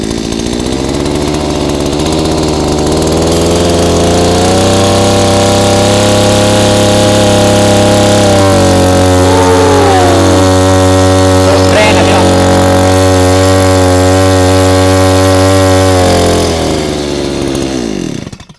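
A small 1-inch engine-driven agricultural water pump fires up and runs at a steady, loud, close drone with a strong low hum, revving slightly midway before cutting off near the end.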